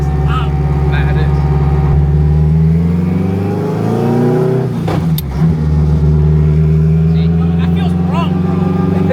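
A 1000-horsepower all-wheel-drive Honda Civic pulls hard on a street, its engine climbing in a long loud rising rev with a brief dip midway, heard from inside while occupants talk over it.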